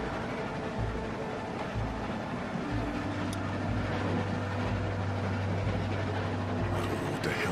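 A moving train in The Walking Dead video game rumbles steadily and loudly throughout, with a low continuous roar, a sustained mechanical hum and faint clicks and rattles, with no voices.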